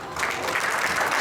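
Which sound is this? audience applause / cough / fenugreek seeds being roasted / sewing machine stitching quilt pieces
audience applause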